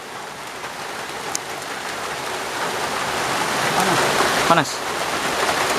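Steady outdoor rain patters and hisses throughout, a broad continuous wash that swells slightly toward the end, while a voice speaks briefly under it during an outdoor meal.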